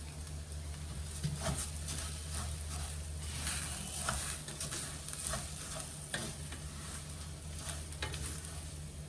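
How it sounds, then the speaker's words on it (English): Rice stirred and fried in oil in a pan for Vietnamese tomato rice (com do), with a steady close sizzle and repeated scraping strokes of the spoon scattered through it, and no voices. "I'm gonna add the rice, and then I'm gonna stir it a little bit, or I guess fry it"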